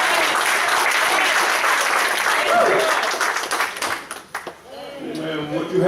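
A church congregation clapping hands together in a loud, dense wash of applause that fades briefly before swelling again, with voices calling out underneath.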